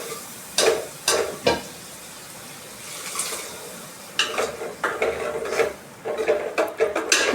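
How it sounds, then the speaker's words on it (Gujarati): Dal is tempered with cumin seeds and curry leaves in a pan, giving repeated sharp sizzles and crackles, with pan and utensil clatter mixed in. The sound is fairly close and grows busier in the second half. "જીરું ને લીમડો નાખીને વઘાર કરીએ તો સ્મેલ તો સારી જ આવે."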